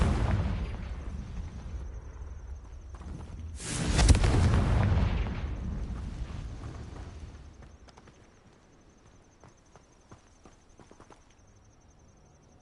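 A Confringo fire spell detonates in the Hogwarts Legacy video game, a single loud booming explosion with a rumbling tail that fades over several seconds into quieter background game sounds.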